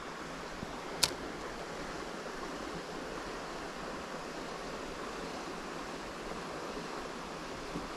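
Fast-flowing water of a small trout stream rushes steadily and close throughout, a broad unbroken roar with one brief sharp click near the start.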